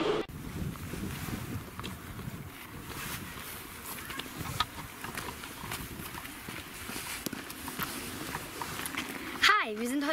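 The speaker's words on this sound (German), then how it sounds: "Und es ist heute sehr windig." Steady gusty wind buffets the microphone throughout beside a hedge, a low rumbling roar with people talking over it.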